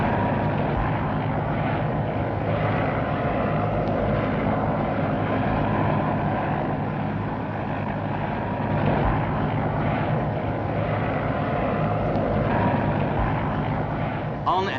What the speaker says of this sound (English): you can arrange for a taxi helicopter to be waiting for you at the Battersea heliport by the River